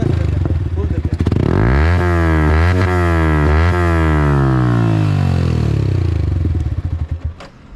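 A motorcycle fitted with an aftermarket exhaust idles with a deep throb, then revs hard several times in rising and falling sweeps before settling back to idle, loud and close.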